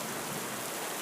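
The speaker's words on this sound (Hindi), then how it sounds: "बारिश बहुत तेज है" Heavy rain pouring steadily in a Hindi cartoon, a dense, loud, unbroken hiss with no voices over it.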